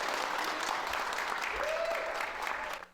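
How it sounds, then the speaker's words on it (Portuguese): A crowd applauds steadily at the first Pfizer-BioNTech vaccination in Canada, given by a University Health Network director, with dense clapping throughout and a few voices and a whistle-like tone under it before it fades at the end. "sob aplauso dos presentes"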